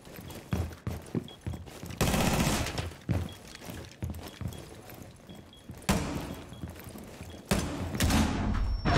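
Bursts of gunfire from a video game 1v1 match, with repeated loud volleys and rapid automatic fire alongside thumps, spread across the clip.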